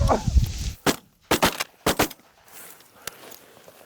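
Several sharp gunshots ring out during a hunt, fired in quick bursts of two or three with short gaps, loud and close, after an opening stretch of rustling noise and faint voices.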